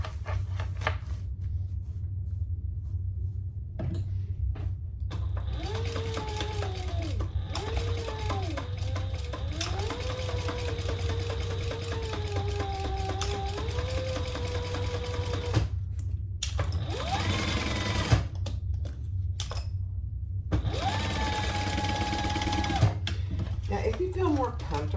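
Sewing machine stitching a seam on a crossbody bag, steady whirring runs in several bursts with short pauses between, fairly quiet and close.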